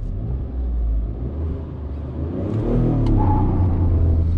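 The 1.2-litre naturally aspirated engine of a Tata Punch builds from a low rumble into a rising, strained drone as the car launches hard, loud and close throughout.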